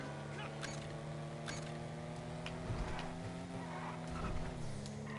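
Continuous engine drone and tire noise from a JB700W sports car in GTA Online as it slides without grip across an oil slick on the road, a steady, fairly loud roar with no talking.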